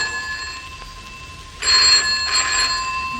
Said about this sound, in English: An empty house, yet still connected by phone.